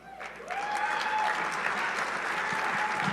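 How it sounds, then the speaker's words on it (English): An audience breaks into cheering and applause, a sudden dense wash of clapping and whoops that swells quickly and holds loud for about three seconds. "Did y'all hear people cheering?"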